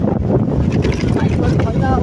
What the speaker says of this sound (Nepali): हावा त्यस्तै चले होइन।